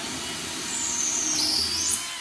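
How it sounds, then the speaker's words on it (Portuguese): A power drill whirring steadily, its pitch rising as it speeds up, ending with a short sharp click. "Aí eu venho aqui com a furadeira"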